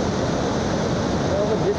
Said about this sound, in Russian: Вот такой водопад.